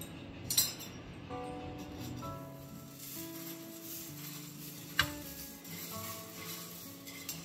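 Poha (flattened rice) dry-roasting in a pan for chivda, with light scraping and intermittent spatula clinks against the pan, including a few sharper taps, over a soft steady musical background.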